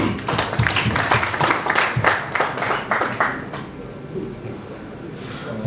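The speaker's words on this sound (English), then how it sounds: "Round of applause for him, please" Attendees at an e-government conference panel applaud a speaker, a burst of clapping across the room for about three seconds that fades out into a quieter murmur, with talking mixed in.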